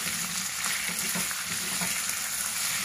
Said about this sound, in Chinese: 炒个一分钟